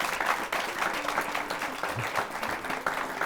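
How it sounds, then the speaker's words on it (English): An audience at a live panel event applauds steadily, many hands clapping at an even, moderate level for a few seconds, with no talk over it. "please give our panel a round of applause."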